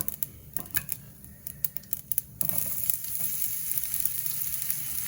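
Onions dropped into hot oil with cumin seeds and stirred in a pan: quick sharp tapping clicks of the spoon first, then a sudden loud, steady sizzle that carries on close up, without talking.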